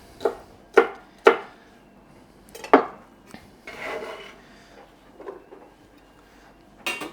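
A knife chops food on a cutting board, cutting cubes and strips for salsa and a fajita bowl in a home kitchen. A few sharp, separate knocks come close up, with softer scraping between them.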